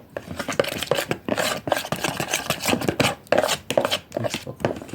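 A spoon scrapes and clatters around a bowl, mixing yogurt and minced garlic into a creamy sauce, making rapid, uneven close-up taps and wet scraping strokes that continue steadily without talk.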